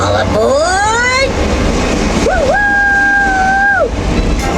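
A theme-park dark ride's train effect, a loud, two-toned train whistle sounding twice with a rising glide into each blast, over steady rumbling ride noise; voices speak around it.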